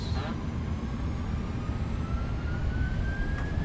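Jet engines of a Boeing 767-400 in a flight simulator whine and rumble steadily as they spool up, with a rising tone over a low, constant roar.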